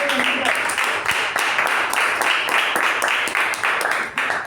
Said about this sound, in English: A big round of applause to Deepa.